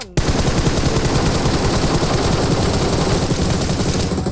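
Nonstop rapid automatic gunfire in the PUBG Mobile shooter game, a loud, dense burst of shots running the whole time without pause.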